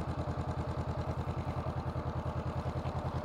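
A motorcycle engine idles during slow-riding balance practice on a training lot, a loud, close, steady low chug with a rapid even pulse that never varies.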